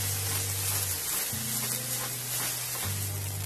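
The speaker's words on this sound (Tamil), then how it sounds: "இப்போ வந்து நான் தக்காளி போட்டு நல்லா mix பண்ணிக்கிறேன்" Tomatoes and onion frying in a pan for a paleo weight-loss recipe, a steady close sizzle with a low hum underneath and no voices.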